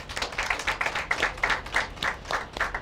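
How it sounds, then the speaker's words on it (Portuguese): A small class claps in a university lecture on monetary policy, a few close hands producing uneven, rhythmic slaps with no talking. "Já fizemos aqui a nossa introdução e que merece uma salva de palmas."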